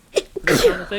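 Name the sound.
sneeze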